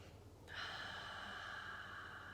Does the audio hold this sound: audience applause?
no